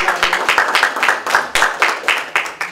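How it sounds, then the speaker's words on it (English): An audience claps steadily at a county sanitation employee hip-hop competition, with dense, even applause and no voices, close and fairly loud. "Y'all give her a round of applause."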